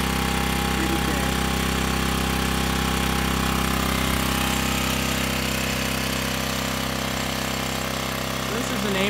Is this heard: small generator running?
yes